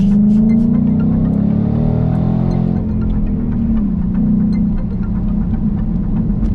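A supercharged Ford Mustang engine accelerating hard, a loud rising whine and roar that climbs then settles into a steady throbbing drone, close and dominant.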